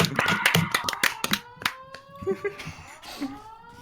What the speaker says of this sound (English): Pretend you're at E3 and you're being paid to clap.